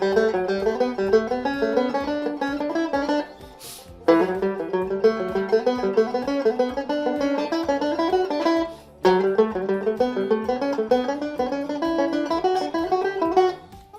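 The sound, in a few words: banjo playing the fifth nine-note single-string scale exercise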